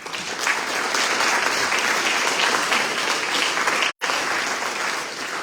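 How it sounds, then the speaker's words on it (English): Sustained audience applause at an awards celebration, loud and dense, with a momentary cut near the end before the clapping resumes. "So if you can all give yourselves a round of applause, please."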